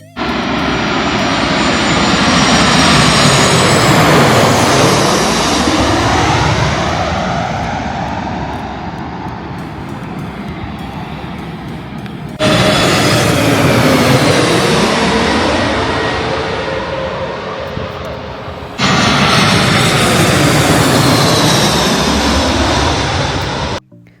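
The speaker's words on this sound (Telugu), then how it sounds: "ఇప్పుడైతే ఒక నైస్ సన్సెట్ వ్యూతో 3 ఫ్లైట్స్ ల్యాండింగ్ చూద్దామా?" Three airliners in turn roar low overhead while landing at Melbourne Airport at sunset, each a loud swelling engine rumble with a sweeping pitch shift as it passes close, then cutting off as the next begins.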